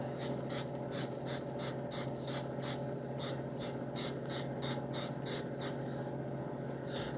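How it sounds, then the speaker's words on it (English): Short bursts of Frankfurt Arsenal dropout release agent sprayed into the cavities of a musky-size Ultra Minnow jig mold, about a dozen quick, evenly spaced hissing puffs close up over a low steady hum, then a pause. "So we got it sprayed with Arsenal dropout."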